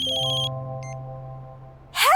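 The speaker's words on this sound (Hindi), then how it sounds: "इतनी सुबह सुबह किसका फोन है?" An electronic phone ringtone trills in a short tonal pattern early in the morning, fairly loud and near, then cuts off as a voice begins at the end.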